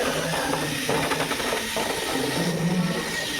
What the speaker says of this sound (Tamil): மோட்ரு போட்டுவிட்றேன். அது சுற்றுது.